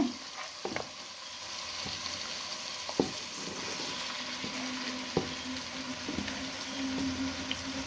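Country chicken sizzles and fries steadily in tempering in a pan, with occasional sharp taps and scrapes of stirring, fairly quiet and close.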